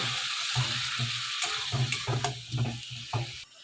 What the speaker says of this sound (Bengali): এবার এই গুঁড়ো মশলাগুলোর মধ্যে হালকা একটু জল মিশিয়ে দেব। তারপর আমি নাড়াচাড়া করে নেব।